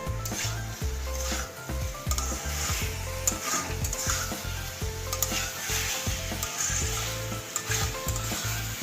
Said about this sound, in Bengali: পনিরটাকে দিয়ে একটু হালকা হাতে মেশাতে হবে